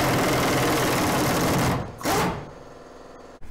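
An impact gun loosening rusted shackle nuts on a Ford F-150 during a spring and shackle swap, a loud continuous buzzing whir that cuts off abruptly, then a short burst and a faint clank.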